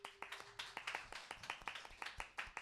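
A youth church congregation at a Sunday service claps in a steady, fast run of roughly twenty crisp claps, close and continuous throughout, with no talking over it.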